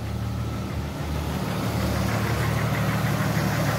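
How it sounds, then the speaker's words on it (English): An old Jeep idles nearby with a slight exhaust leak, a steady low rumbling engine tone with a faint ticking roughness, even and continuous throughout. "Just a little bit of a exhaust leak."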